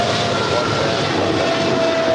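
A Boeing 777 freighter jet, four years old, rolls for takeoff at LAX, giving a steady broadband engine roar with a faint tonal whine, continuous and fairly loud throughout.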